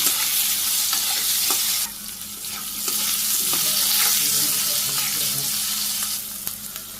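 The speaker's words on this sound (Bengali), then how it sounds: "আলুগুলো দিয়ে দিলাম। সাথে পরিমাণ মতো লবণ দিলাম, আর কাঁচামরিচ দিয়ে দিই, কাঁচামরিচ নেড়ে চেড়ে নিই।" Boiled potatoes with salt and green chillies stirred in a hot frying pan in a village kitchen: a steady close sizzle with scraping spoon strokes and occasional soft knocks, no voices.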